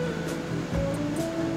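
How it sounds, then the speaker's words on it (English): Water poured steadily into a blender jar for a smoothie, a continuous splashing pour over a low background hum with no talking. "So I'm pouring some of that water in."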